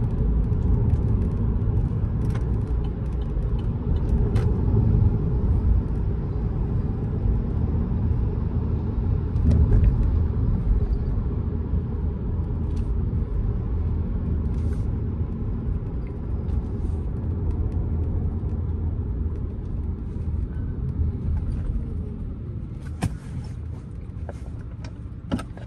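A 2020 Chevrolet Bolt EV, a fully electric car, accelerating, heard from inside as a steady low road and motor rumble with no engine note and faint small clicks and rattles.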